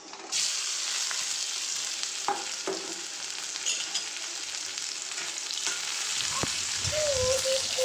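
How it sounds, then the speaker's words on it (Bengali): Onions fry in a pan with a close, steady crackling sizzle, broken by occasional scraping stirs and a short squeak near the end, with no talking. "চলো এবারে পেঁয়াজটা ভেজে নেব"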